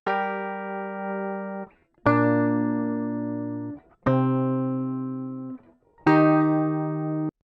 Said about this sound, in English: So we're going to start off with our guitar. And we're going to drive it all the way.